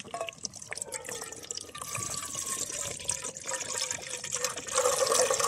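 Water poured from a jug at a wild camp beside a 30-year-old tent, a steady splashing trickle running close by, rising slightly toward the end, with no talk.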